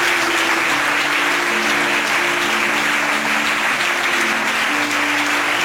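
A church congregation at an evening seminar bursts into loud, sustained applause, dense clapping filling the room steadily from start to finish, with some voices faintly underneath.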